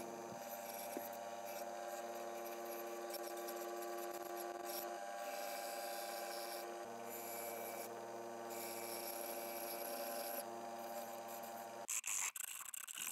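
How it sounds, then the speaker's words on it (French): A rasp worked against wooden garden chair boards held in pairs, a continuous grinding, rubbing scrape with steady strokes over a constant background hum, ending in a few louder knocks. "J'affine à la râpe, toujours 2 par 2"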